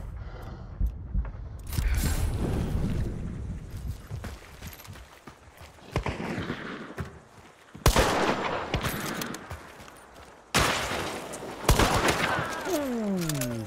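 Avtomat rifle fire in Hunt: Showdown 1896, sharp gunshot bursts and volleys cracking out at intervals, some close and loud, others more distant, with footsteps and mechanical clatter between them.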